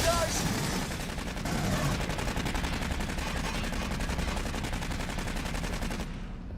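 Sustained rapid gunfire rattles in Aliens: Colonial Marines, a loud, continuous automatic burst of shots going on for about six seconds before cutting off abruptly.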